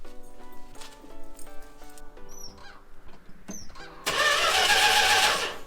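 After a few seconds of scattered quiet noises, a 1966 Plymouth Barracuda's old V8 cold-starts, cranking and bursting into a loud, rough roar near the end.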